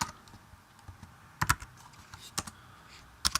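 Soft, sparse clicks of a computer keyboard as a name is typed, a few isolated keystrokes with small clusters, quiet and close in a calm room.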